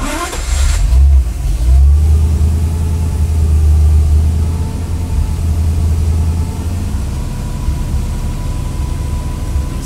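A 1956 Studebaker Transtar truck's 259 engine fitted with Fitech EFI cranks briefly, catches, revs, then settles into a steady, loud, close idle with a deep low rumble.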